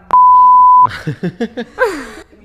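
A single steady censor bleep tone sounds loud and clean for under a second in an Italian talk show, then a voice speaks in quick bursts.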